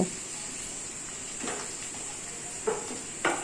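Chicken pieces with garlic are stir-fried in a pan under a constant bright sizzle, with a few soft scrapes and knocks from the spatula against the pan.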